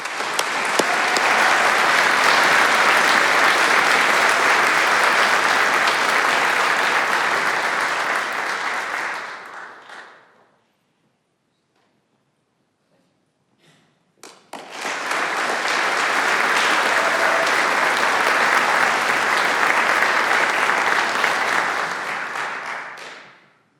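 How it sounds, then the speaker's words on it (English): Audience at an alumni association awards ceremony applauds the award recipients: a long, loud, even wash of clapping that stops into near silence, then a second sustained round rises and runs on. "Let's give them a round of applause."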